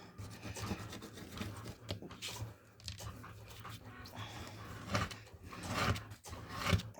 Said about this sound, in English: it is just literally scraping into the middle, and all this horrible gunk is coming up